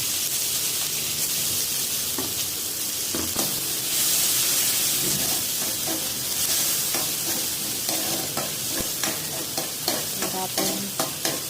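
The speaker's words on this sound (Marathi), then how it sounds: "आपण फ्राय करूया।" Onions frying in hot oil with cumin and mustard seeds for an idli fry, a steady loud sizzle with the scrape and clatter of stirring and occasional spatters.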